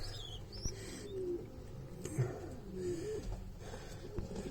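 Soft, low pigeon coos repeat several times at close range in a pigeon breeding loft with young birds, with light rustling and faint chirps in the background.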